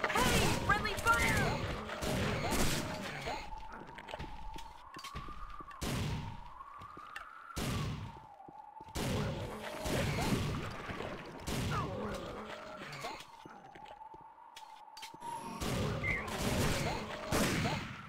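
Tactical Ops Monster Attack gunfire, with dense bursts of rapid shots in repeated volleys broken by short pauses, loud and close, over a droning tone and occasional voices.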